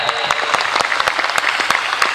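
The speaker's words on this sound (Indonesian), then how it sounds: "Tepuk tangan yang meriah." A close group claps loudly at a training centre visit in Magelang, Indonesia, with crisp individual hand strikes standing out over a busy run of applause.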